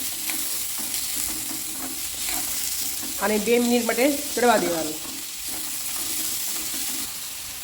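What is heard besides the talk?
chopped onions sautéing in pan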